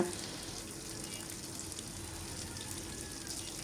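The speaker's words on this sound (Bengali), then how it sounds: "এই তো পেঁয়াজগুলো প্রায় ভাজা হয়ে আসছে একেবারে লাল লাল করে" Onions fry in a pan for a beef and potato curry, giving a faint, steady sizzle and crackle that holds at an even level throughout.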